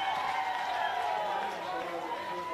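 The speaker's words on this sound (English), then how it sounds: "the crowd from Hamilton go up as one" Home crowd at a Hamilton Hawks versus Merewether Carlton rugby union semi-final roaring as one, a dense sustained wash of cheering from many voices filling the ground throughout.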